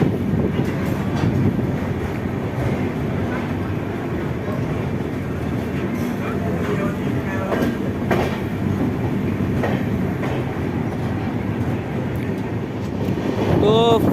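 An express passenger train pulls away from Chhapra and runs on the rails, giving a steady rumble and clatter from inside the coach. Faint voices murmur underneath, and a short tonal squeal rises near the end.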